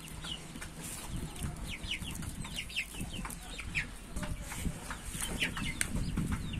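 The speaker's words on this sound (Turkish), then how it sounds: "Gördüğünüz gibi burada horoz çok." A flock of young Splash Wyandotte chickens and roosters gives frequent high chirps and peeps over soft clucking and rustling nearby, steady throughout.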